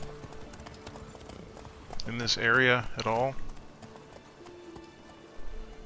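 Horse hooves clip-clop in The Witcher 3 game, a steady rhythmic trot with light rain falling, while someone speaks briefly over them in the middle.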